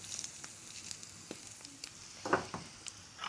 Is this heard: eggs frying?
yes